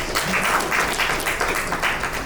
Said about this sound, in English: Please clap for yourself, please.